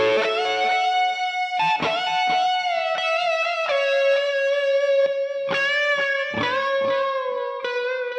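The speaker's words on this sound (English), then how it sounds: "More distortion with the Stallone." An electric guitar runs through a free amp simulator on a more distorted setting. Several picked notes and chords ring out clearly one after another, with no one speaking.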